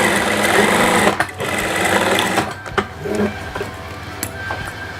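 A sewing machine stitches the collar seam of a kebaya, its rapid mechanical whirr running in several bursts with short pauses between runs, close and clear.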